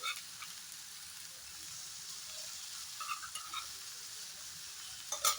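Chicken fried rice with vegetables sizzles steadily in a pan while being stirred, a continuous close hiss with a few scraping clicks near the end and no talking.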